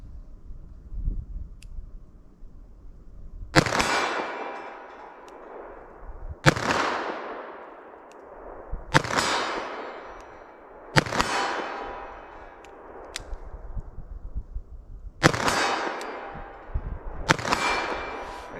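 Six sharp, loud 10mm shots from a revolver ring out one at a time, a couple of seconds apart, each fading into a metallic ring and echo with quiet gaps between.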